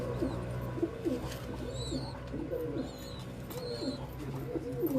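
Pigeons coo in soft repeated rolling phrases on a rooftop loft, low throaty calls recurring every second or so, with a few faint higher chirps above a quiet outdoor hum.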